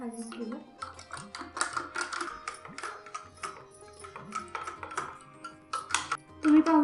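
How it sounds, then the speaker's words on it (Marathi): A spoon stirs raw mango panha with ice in a glass, making rapid, irregular light clinks and ticks against the sides that go on steadily at close range. "आता हे व्यवस्थित चमच्याने हलवून घेऊ."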